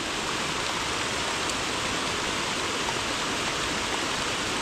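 Steady broadband rush of a flowing river current where lures are fished, loud and continuous, with no voices over the water.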